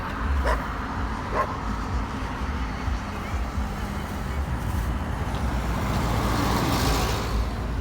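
A pit bull barks in a couple of short bursts early on, set against a steady wash of outdoor noise and passing traffic.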